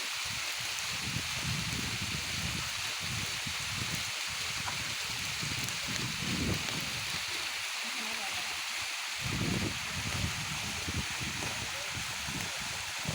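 A tall waterfall at a scenic outdoor spot gives a steady, fairly faint broadband rush of falling water, continuous throughout with no talk over it.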